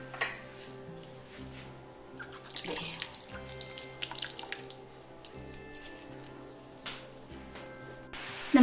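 Tap water runs steadily into a kitchen sink during preparation of a Kerala-style ginger (inji) curry, a continuous splashing stream with faint drips, fairly quiet and close, with no talking.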